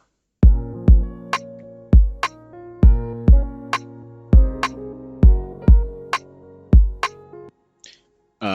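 Sparse dancehall skank drum beat of deep booming kicks and sharp snare-like cracks, evenly spaced in a steady rhythm, with ringing tones between hits.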